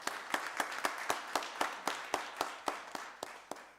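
Sparse, evenly spaced claps ring out in a quiet county board of commissioners meeting room, a thin round of applause for the mayor that sounds like only a few hands, fairly faint.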